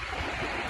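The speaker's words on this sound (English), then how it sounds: "put my feet in the water and getting cold, meditate and listen to deep ocean breeze" Ocean water washes near the shore under a sea breeze, a brief, continuous broadband rush of surf and wind with no voices.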